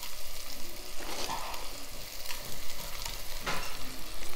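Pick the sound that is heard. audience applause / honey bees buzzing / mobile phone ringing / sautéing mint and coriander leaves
sautéing mint and coriander leaves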